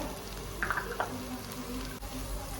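A steady crackling sizzle of curry leaves frying in hot coconut oil, with a few brief sharper pops early on and no voices.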